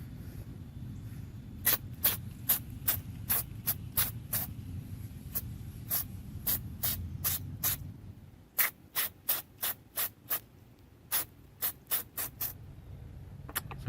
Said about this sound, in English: I'm going to lubricate the guides with white lithium grease and also the regulators